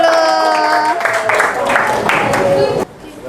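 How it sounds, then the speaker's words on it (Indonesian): A classroom group gives a burst of clapping and cheering that rises over chatter and dies off abruptly near the end, close and fairly loud. "tepuk tangan dulu"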